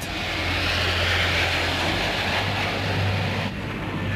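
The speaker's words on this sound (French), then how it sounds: "Les 183 avions de la première vague de la force de frappe israélienne décollent." Israeli military jet aircraft take off in June 1967, a loud, steady, continuous engine roar that holds close and full throughout with no voices.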